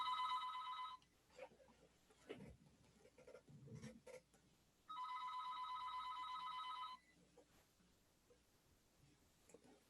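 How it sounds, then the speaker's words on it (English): A landline telephone rings in the background in two separate bursts, each a steady electronic trill lasting about one to two seconds. Between the bursts there are faint room noises and quiet handling sounds. "the phone's ringing in the background"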